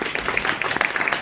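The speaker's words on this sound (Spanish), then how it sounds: "un aplauso grande para José." An audience gives a brief burst of applause after a talk by José Castillo on dollarization, a dense patter of claps at close-to-moderate distance.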